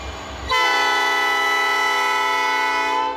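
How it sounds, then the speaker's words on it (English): A train horn blasts loudly after a brief rumble as a train passes in Dolton, holding a long, steady, harmonic tone for several seconds before fading slightly at the end. "Usually the trains are the loudest noise in south suburban Dolton."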